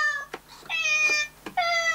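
Synthetic cat meows play from a Nintendo Labo Toy-Con cardboard piano, three clear, tuned mews in a row, loud and close with no talk over them.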